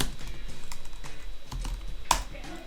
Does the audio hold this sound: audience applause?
no